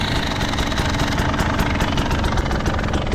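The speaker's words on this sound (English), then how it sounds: "It's an idle." A 2022 KTM 300 two-stroke dirt bike fitted with an FMF Turbinecore 2 exhaust idles steadily up close, a loud continuous rattling putter with rapid even pulses and no speech.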